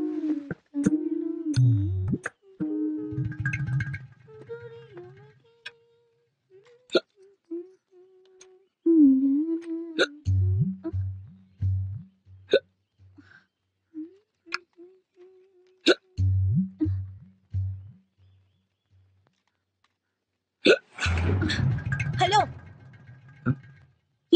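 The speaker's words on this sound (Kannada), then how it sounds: "ಇಲ್ಲ ಬಿಕ್ಕಳಿಕೆ." A person hiccuping repeatedly at a meal, sharp short gulping catches recurring in clusters between stretches of conversation, near and fairly loud.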